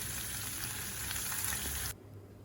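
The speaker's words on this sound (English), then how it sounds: "I just added in a little more because it's more anchovies that are being fried." Anchovies deep frying in oil in a frying pan, a steady close hissing sizzle that stays loud before dropping off abruptly near the end.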